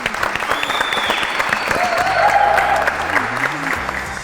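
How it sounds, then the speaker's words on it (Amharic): Audience clapping warmly for guest twins on a cooking show: a dense, steady wash of applause lasting a few seconds, with faint voices mixed underneath. "ሞቅ ያለ ጭብጨባ ትስጣችሁ"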